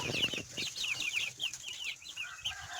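Rooster and hen calls: clucks and short squawks repeat steadily with faint rustling and low background noise.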